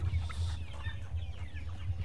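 Chickens on a farm, sick with Ranikhet disease, clucking softly and steadily close by, with a low continuous hum underneath.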